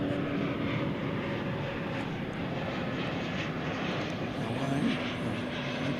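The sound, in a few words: Frontier Airlines Airbus jet arriving at DFW airport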